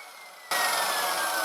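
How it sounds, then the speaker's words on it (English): Power sanding the edges of handmade wooden lids, a steady broadband abrasive hiss that starts abruptly after a brief quiet moment and holds loud and even, with no voices. "All edges of the lids are sanded and made smooth."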